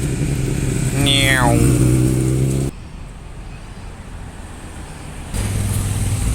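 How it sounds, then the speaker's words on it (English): Motorcycle passing on the Monaco street circuit, a loud engine rising in pitch as it accelerates by up close, then fading and leaving street noise and traffic, with no talking. "Here comes a bike."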